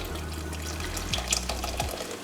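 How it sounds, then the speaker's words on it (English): Lager beer poured into a cooking pot of black beans, a steady close liquid splash and fizz lasting a couple of seconds over a low kitchen hum, with no talking. "And then I want like 100 mils or so of beer."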